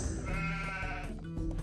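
Sheep bleating in the Age of Empires video game, a single loud, drawn-out wavering bleat heard close and alone.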